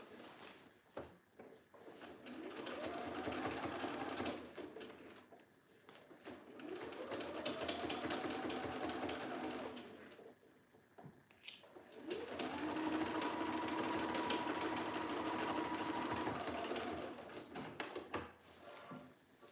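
Electric sewing machine stitching a seam in trouser fabric, running in three long, steady bursts with short pauses and soft clicks between them, close and clear.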